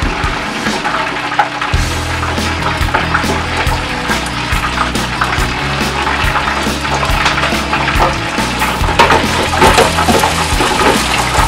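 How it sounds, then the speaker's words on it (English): Hot frying grease dripping off deep-fried chicken wings held over a fryer, a loud continuous sizzling, bubbling rush that runs the whole time without talk. "Letting the grease drip off before we pull them up out of there."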